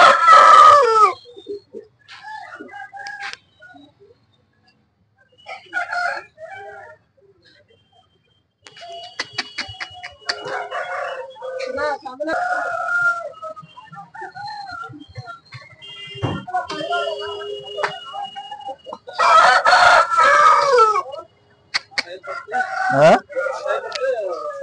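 Roosters crow and hens cluck among the fowl for sale at the Saturday market in Anantapur, several loud crows rising in bursts close by, with brief gaps of quiet between them.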